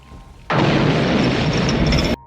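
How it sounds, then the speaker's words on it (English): A sudden, loud broadband blast erupts and holds for over a second as a dense roar, then cuts off abruptly. "Their conversation is interrupted by an explosion."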